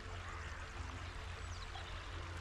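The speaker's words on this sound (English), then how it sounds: "Mill Beck flows into Crummock Water." Mill Beck, a Lake District stream, pouring into Crummock Water with a steady, close rushing and splashing flow, alone and without voices.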